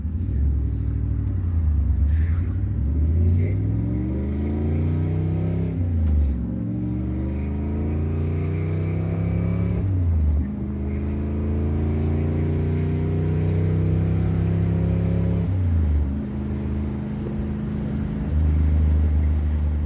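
A 1986 Camaro Z28 IROC with a built 355 V8 making about 400 hp and a six-speed T-56 revs up repeatedly, its deep, loud engine note rising in pitch through each pull before dropping back to a rumbling idle, with no talking.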